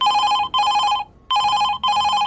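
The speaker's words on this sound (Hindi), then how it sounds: "तभी अचानक उसके मोबाइल पर फोन बजने लगा।" A mobile phone rings loudly and close, four even electronic ring bursts with a short pause in the middle and nothing else around them.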